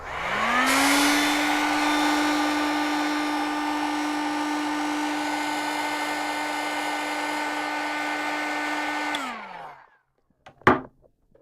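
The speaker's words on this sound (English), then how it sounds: "you can access it more easily with the heat blowing gun. And then you start the gun," Heat gun used to shrink tubing on a terminal, a steady loud whirring blow with a rising whine that holds for about eight seconds before spinning down, followed by a couple of sharp clicks.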